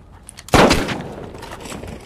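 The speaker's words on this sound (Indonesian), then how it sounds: "Lalu Jaif menembak salah satu dari mereka." A single sharp gunshot from a firearm in an action film cracks out loudly, then a rumbling echo trails off over the next second and a half.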